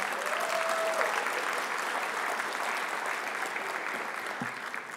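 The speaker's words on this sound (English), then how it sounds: "All right, big round of applause." Steady applause from a graduation ceremony audience for a college's fall graduates, a dense sustained clapping from many hands that holds evenly for several seconds with a faint tone and a brief thump near the end.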